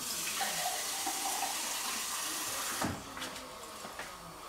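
Water runs steadily from a tap into a pot for vegetable soup, a continuous broadband splashing that stops near the three-second mark, followed by faint clinks and handling noises in a quiet kitchen.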